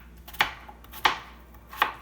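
A knife cuts a potato on a cutting board, three crisp, close chops at an even pace against a quiet kitchen background.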